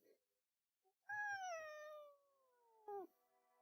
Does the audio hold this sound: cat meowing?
yes